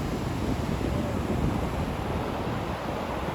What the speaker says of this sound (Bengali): এখানটা দেখো ঢেউটা।